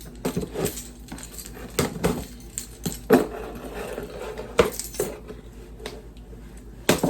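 A knife slices open a cardboard shoe box holding skateboarding shoes, making scattered close scrapes, taps and sharp clicks of cardboard and packaging being handled, with no talking.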